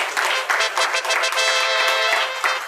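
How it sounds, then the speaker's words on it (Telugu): A congregation at a Sunday church service claps loudly, a dense, continuous wash of hand claps with small surges and dips throughout, close and alone without speech. "చప్పట్లు గట్టిగా కొట్టండి ఒకసారి"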